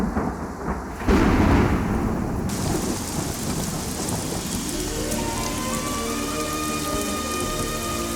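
Heavy rain pours steadily throughout a scene from a Hindi-dubbed South Indian action film, with a loud thunder rumble swelling early on; a rising tonal layer, likely background music, enters partway through.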